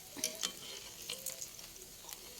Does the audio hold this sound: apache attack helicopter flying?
no